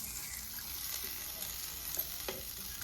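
Prawns frying in a pan at a family meal, a steady soft sizzle and hiss throughout with a few faint clicks, fairly quiet and with no talk.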